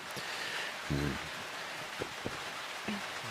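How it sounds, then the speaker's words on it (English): Rain falls on the roof of a small shelter shed at a show yard dog trial in Euroa, a steady hissing patter that thickens as it gets heavier, with a brief voice and a few soft knocks underneath. "You may be able to hear it on the roof of our little shelter shed here as this rain gets a little bit heavier"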